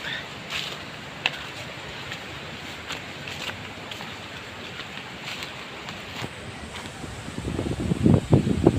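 Steady wind roars and buffets the microphone by the shore during a typhoon, with surf building louder near the end.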